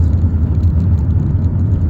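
A new car drives along in a steady, loud low rumble of engine and road noise from inside the cabin, continuous with no talking.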